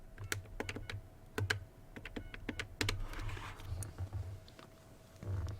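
A phone number is keyed in on an old Polycom desk phone set up for VoIP, giving a quick, irregular run of sharp plastic button clicks, close and clear over a faint steady hum.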